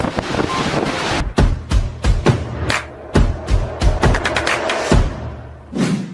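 Rough high waves in a stormy sea at Marine Drive, Mumbai, beat loudly and near with heavy wind buffeting, broken into repeated gusty surges and crashes, with no voices.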